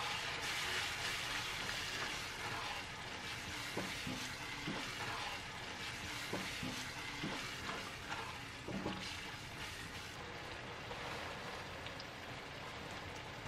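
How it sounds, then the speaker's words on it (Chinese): Coarse chili flakes stir-fried over low heat in a wok for Chinese toon sauce: a soft, steady sizzle with intermittent scraping clicks of the spatula. "然后往锅里加入3勺粗一些的辣椒面。 转小火翻炒，"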